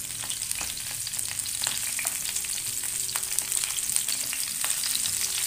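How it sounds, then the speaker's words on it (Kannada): Stuffed bitter gourd fries in hot oil for a curry, giving a constant close sizzle with dense crackling pops and no talk. "ಈಗ ಎಣ್ಣೆ ಕಾಯ್ತಾ ಇದೆ. ಇವಾಗ ಇದನ್ನು ಸೇರಿಸ್ಕೊಳ್ಳೋಣ, ತುಂಬಿರೋ ಅಂಥ ಒಂದು ಹಾಗಲಕಾಯಿನ."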